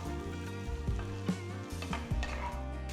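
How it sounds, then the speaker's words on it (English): Mixed vegetables sauté in a hot pan for a vegetable makhanwala side dish, a steady close sizzle and crackle throughout with occasional stirring scrapes and clinks, no voices. "After sauteing the vegetables for about 5 minutes"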